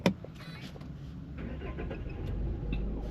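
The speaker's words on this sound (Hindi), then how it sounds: "अब ये डीजल इंजन की आवाज़ सुनो" Tata Sierra 2025 diesel automatic engine idling, a low steady rumble heard from inside the cabin after a sharp opening click, the drone swelling slightly toward the end.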